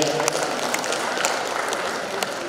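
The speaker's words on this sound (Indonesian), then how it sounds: "Tepuk tangan untuk Parepare." Audience applause for a visiting delegation at a Halal Bi Halal community gathering, a dense, steady patter of many hands clapping throughout, with crowd noise and voices mixed in.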